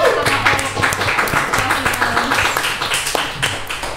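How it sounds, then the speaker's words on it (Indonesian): A group claps in a quick, uneven patter to applaud a student swimmer who won national-team races, the applause staying fairly close and lively throughout with a murmur of voices beneath it. "Ya tepuk tangan dulu dong buat"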